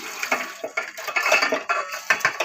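Pieces of country chicken are tipped into a pot with a little sesame oil. Close clinks, knocks and wet slaps come in quick uneven bursts.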